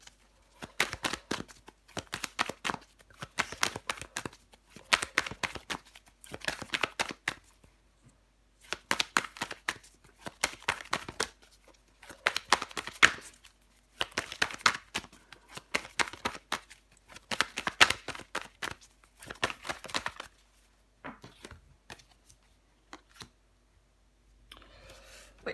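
Tarot cards being shuffled, handled and laid down on a table, giving quiet, close clicks and soft slaps in irregular clusters separated by pauses.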